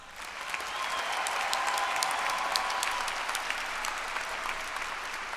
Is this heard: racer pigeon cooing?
no